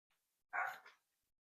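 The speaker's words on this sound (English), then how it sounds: "Sorry about the dog barking." A single dog barks once indoors at a home, one short sharp woof with a brief tail, otherwise quiet around it.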